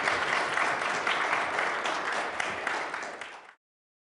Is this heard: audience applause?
yes